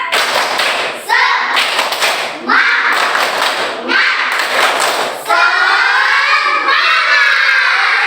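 A class of children performs the 'tepuk semangat' clapping chant, loud bursts of rhythmic clapping and shouted chanting in separated blocks, ending in a sustained group shout, all close and energetic in a classroom.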